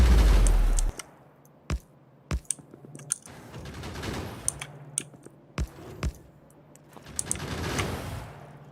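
Gun turrets in the game Factorio fire in irregular bursts of sharp cracks, spaced out over a low mechanical hum, loud and close with quiet gaps between volleys.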